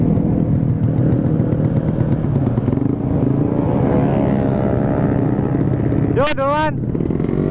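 A motorcycle fitted with a new exhaust rumbles loudly and steadily on a night ride, a constant close engine drone with a brief sharp whistle or horn-like sweep near the end while a voice speaks briefly.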